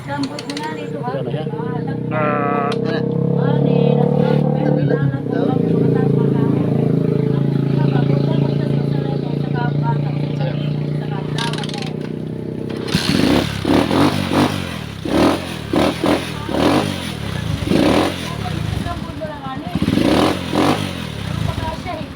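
A truck engine with a faulty, rewired harness cranks and catches, first a steady droning hum, then a rougher clattering idle with uneven pulses once it runs, loud and close as a mechanic talks over it.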